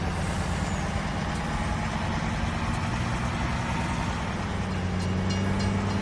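A train rolls past in Farming Simulator 19, a steady loud low rumble with rail clatter holding throughout, with no voices.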